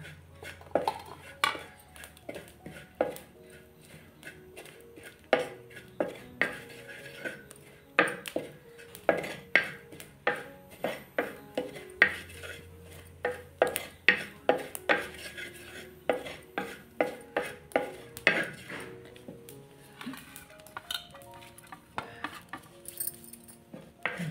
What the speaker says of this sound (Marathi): आता या सुका खोबरा ना तर जरा भाजून घेऊयात आपण, हलकाच भाजून घ्यायचं.